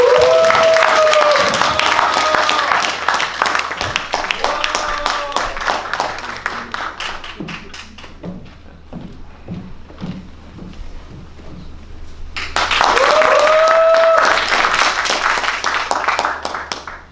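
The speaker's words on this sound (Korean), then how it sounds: "힘찬 박수로 모시겠습니다" Audience applause at a Monday evening classical concert in an art hall, loud dense clapping that thins as a voice speaks over it, then swells strongly again near the end.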